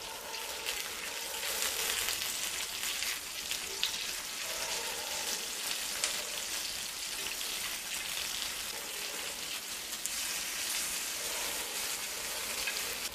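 Fish frying on a flat tawa pan, a steady, even sizzle of oil hissing continuously at close range with no talk over it.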